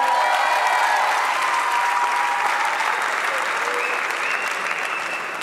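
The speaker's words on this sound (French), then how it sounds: "On peut les applaudir bien fort." Loud, sustained applause from a crowd, steady and dense throughout, fading only slightly toward the end.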